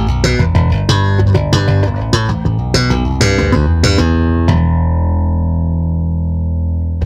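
A Music Man StingRay 5HS bass plays a loud, busy line of punchy plucked notes close up, ending on a long sustained note that rings out and slowly decays.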